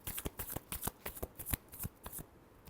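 A deck of tarot cards is shuffled close by in quick, rhythmic riffling bursts of crisp flicks and snaps, quiet and alone, with no talking.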